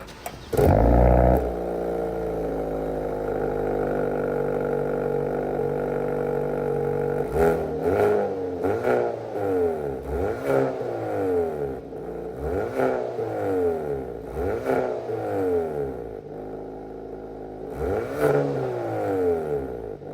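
A 2021 Hyundai i30 N Performance engine idles with a low hum, then revs repeatedly, each rev rising and falling in loud, throaty bursts close by.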